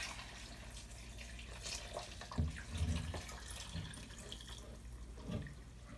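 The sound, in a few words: tap water filling a container of paper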